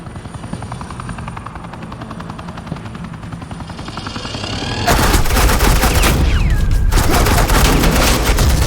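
Gunfire and a helicopter in Batman: The Enemy Within, starting as a murky rumble under a steady beat, then bursting into loud, dense automatic fire with rotor thumping, filling the second half.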